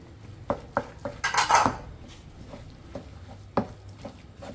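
Egg being mixed into pork shanghai filling with cornstarch in a bowl, with a utensil clinking and scraping against the bowl in a series of sharp taps and a brief burst of stirring, close and fairly clear.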